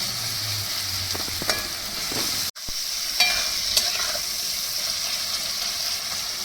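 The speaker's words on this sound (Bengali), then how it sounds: "আবার কষাতে থাকবো একটু আনারসটা একটু নরম হলে তারপর" Pineapple sizzling and frying in oil with hilsa fish curry, steady crackle with a few stirring scrapes, one brief dropout midway; no talking.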